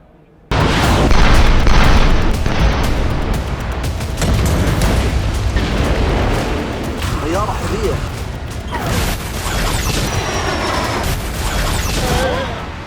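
Heavy booms and blasts from missile strikes in a war zone, a dense, loud, sustained rumble with repeated impacts and crackling debris across the whole stretch, with no voices over it.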